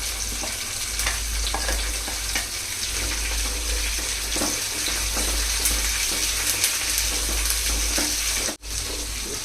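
Chopped onion and curry leaves fry in hot oil in a pan, giving a continuous close sizzle with occasional scraping from stirring, steady and loud throughout.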